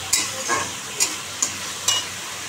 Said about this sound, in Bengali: দেখো আমি মাছের মশলাটা রেডি করলাম, এখন কষাচ্ছি